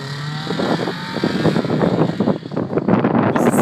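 A car engine revs hard in repeated bursts, loud and close, with gusty wind noise on the microphone and no talk over it.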